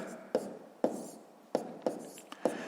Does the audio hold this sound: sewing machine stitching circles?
no